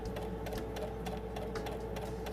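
A sewing machine running with no foot pedal, started by a button, stitching in a fast, steady mechanical rattle with a constant hum, close and even throughout.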